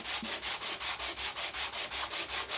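Steady back-and-forth strokes of hand sanding on an old Atkins saw, about a dozen even, rhythmic rasping passes, close and fairly loud with no voices.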